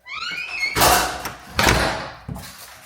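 A manually operated garage door rolls and rattles shut, two heavy rumbling pushes ending in a solid thunk, with a faint squeak at the start.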